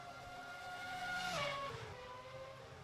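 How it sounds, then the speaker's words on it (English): A race car sweeps past close in the Second Life online racing game, its engine tone rising then bending downward in a Doppler swoop midway through before fading off, with steady engine noise throughout and no talk. "you can hear the car fly by"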